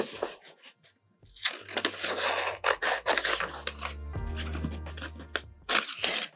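Scissors snip out small printed photos, with a series of close crunching, rubbing cuts in short bursts and quiet pauses between them.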